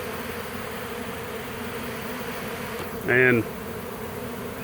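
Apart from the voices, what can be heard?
swarm of bees buzzing near a hive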